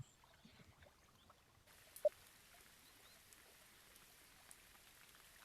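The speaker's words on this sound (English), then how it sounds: "you'll find yourself at beautiful Lake Biwa in South Korea on a rainy day" Rain falls on a lake in Real VR Fishing, a fishing video game, making a soft, faint, continuous patter with one brief louder drop partway through and no talking.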